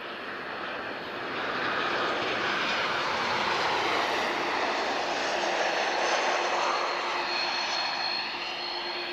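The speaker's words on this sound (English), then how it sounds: "Very nice arrival there from Norwegian" A Norwegian airliner arriving at Lisbon Airport sends out a continuous jet engine roar that swells a little and holds steady, moderately loud and close, with a thin whine running through it and nobody speaking.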